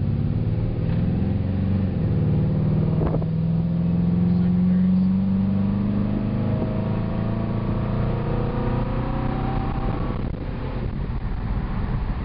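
A car engine, a project car fed 101-octane fuel, hums and revs in a sustained low drone with rising and falling pitch, close and loud, with wind noise over it and voices talking now and then.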